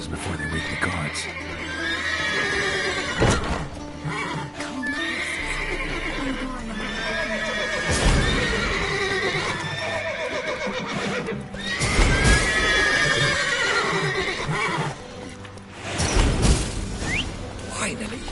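Horses neigh and whinny repeatedly in The Witcher 3: Wild Hunt, several loud, shrill calls rising over hoof clip-clops, scuffling and steady ambient game noise.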